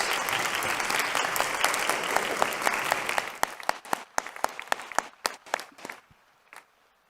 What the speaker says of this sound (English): give them an enormous round of applause